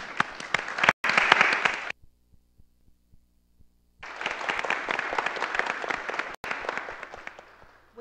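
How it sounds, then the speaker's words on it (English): Standing applause at a Lynn Haven city commission meeting, two bursts of steady crowd clapping separated by a couple of seconds of near silence, fairly close and uninterrupted by speech. "could we please stand and give him a round of applause for all of his accomplishments?"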